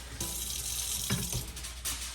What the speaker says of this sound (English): I add just a tinge of water, just a little bit.